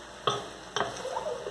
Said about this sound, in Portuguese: Dá uma mexida para que ele misture bem essa.